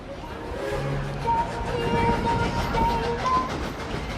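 A theme park train ride at Dollywood rumbles along steadily with faint squealing wheel tones and a low mechanical drone, no voices.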